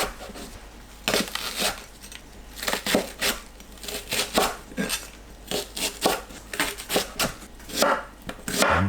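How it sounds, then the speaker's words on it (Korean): A knife chops the white parts of green onions on a board, with a steady run of crisp, close cuts in uneven bursts and no talking. "파 흰 부분을 10cm 길이로 자르고 길게 반 자릅니다."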